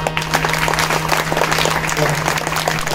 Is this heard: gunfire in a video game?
no